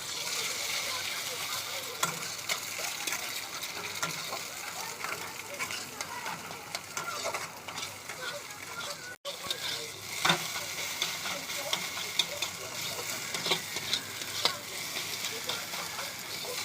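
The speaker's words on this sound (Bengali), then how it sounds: "ডিমটা ভেজে নেবো আমি।" An egg frying in a pan at home while chow mein is made, giving a steady close sizzle with small crackles throughout, fairly quiet and without speech.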